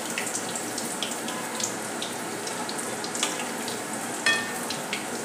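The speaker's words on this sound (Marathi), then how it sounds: "अशा प्रकारे आपण तळून घेतोय." Two roll samosas fry in hot oil, a steady close sizzle with small crackling pops throughout and a brief louder spatter near the end, with no talking.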